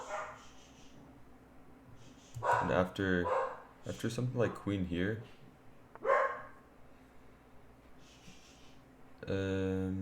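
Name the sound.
dogs barking in the background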